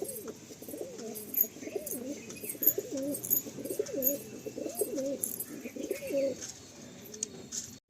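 Several pigeons coo close by in repeated throaty, rolling calls, steady through the scene, with faint chirps and light background noise and no voices.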